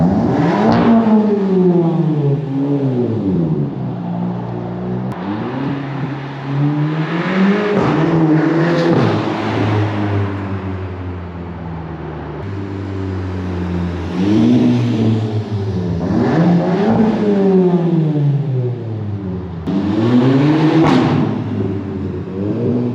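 Straight-piped Volkswagen GTI with a downpipe, revving hard and loud through its open exhaust in repeated rising and falling bursts, close to the listener with no talk over it.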